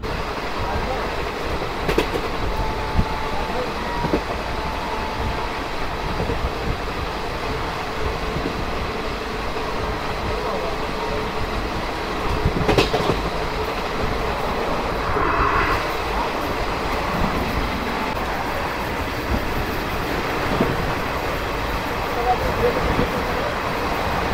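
Passenger train on the Tarakeswar–Kolkata line running past Dankuni Junction, a steady rumbling roll of wheels on rails with faint clicks and a few sharper knocks, continuous and fairly close.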